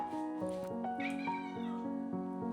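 A domestic cat meows repeatedly in a home kitchen, a string of loud, close, drawn-out cries in quick succession with no talk over them.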